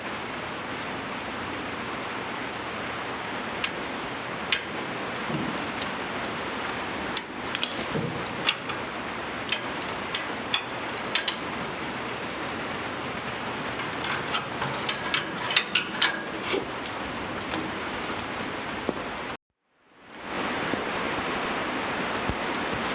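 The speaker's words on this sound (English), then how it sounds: "it's too long, so I'm going to cut it and double flare it" A metal tube being cut and double flared during a GT3 road race chassis rebuild: scattered sharp metallic clicks and ratcheting taps over a steady hiss, stopping briefly before the hiss resumes.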